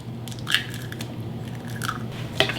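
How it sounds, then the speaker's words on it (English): A whisk beating an egg in a bowl for keto lemon cake chaffle batter, heard as a few quick clinks and scrapes against the bowl over a soft background hum, with no talking. "So I'm using a whisk to kind of break it up"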